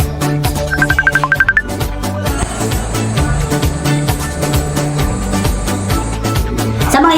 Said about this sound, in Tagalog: tawagan po natin si Rose